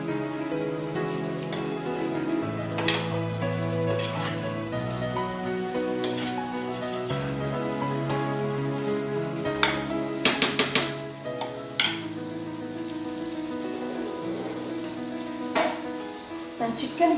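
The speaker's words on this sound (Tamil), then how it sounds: "நல்லா அந்த மசாலா கூட பிளெண்ட் ஆகிறதுக்காக கொஞ்சம் இந்த மாதிரி வதக்கி விடுங்க" Chicken and masala sauté in a hot pan with a steady, close sizzle, while a utensil stirs and scrapes against the metal in occasional clinks and knocks.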